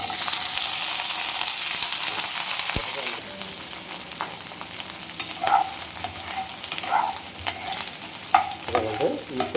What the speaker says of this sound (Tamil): இதை இப்படியே ஒரு நல்ல வெங்காயமெல்லாம் நல்லா கலர் சேஞ்ச் ஆகிற வரைக்கும் நல்லா வதக்கிக்கலாம்